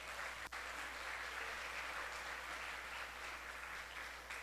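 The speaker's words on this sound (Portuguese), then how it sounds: "Dê um aplauso ao Senhor por isso." A church congregation applauding throughout, a steady dense wash of clapping that stays even and fairly loud from start to finish.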